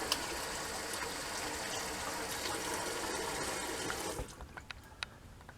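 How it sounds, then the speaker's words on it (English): Water from a tap rinses a 1947 Rolls razor blade, a steady broadband gush running for about four seconds before cutting off, followed by a few faint drips and clicks. "And we're going to rinse off the blade."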